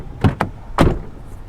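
A pickup truck door at a salvage auction lot is shaken and opened, giving three sharp, close metallic rattles and clunks in quick succession, the last one the loudest.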